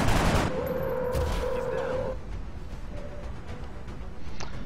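Gunfire in the turn-based tactics game XCOM: Long War, a loud burst of rapid shots opening the clip, followed by a steady whirring game soundscape with a faint later crack.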